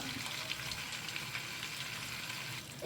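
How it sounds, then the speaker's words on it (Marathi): Whole spices and a bay leaf fry in melted butter for prawn pulao, giving a steady, close, dense sizzle that holds evenly throughout with no talking. "सो मातशे खडे मसाले आमकां मातशे फ्राय करून घेवया."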